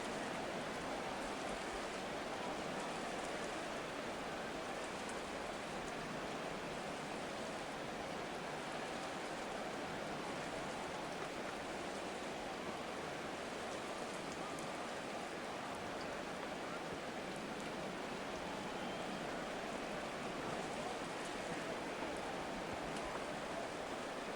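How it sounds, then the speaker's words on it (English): Steady rain hiss fills a Madden 24 football game broadcast between the Broncos and Chargers, a constant, even wash of noise with no talk over it. "The rain set to continue as we are underway in the second half."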